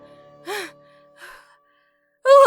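A woman in a fantasy audio drama pants with exertion after running up a stairway: two short breathy gasps spaced apart, close and fairly loud, then a sharper burst of breath at the end, with no words spoken.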